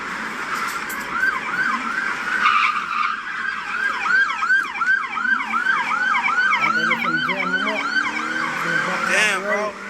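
Police car sirens wail in a rapid, repeating up-and-down pattern from several vehicles at once, loud and close over a steady background of engine and road noise, with no voices.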